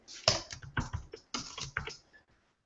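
Keys clatter on a computer keyboard in a quick burst of close, crisp taps, several strokes in a row before stopping, with no talking.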